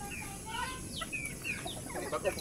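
Native chickens on a small backyard chicken farm, giving several soft, overlapping clucks and short calls at a moderate distance over a steady background hiss.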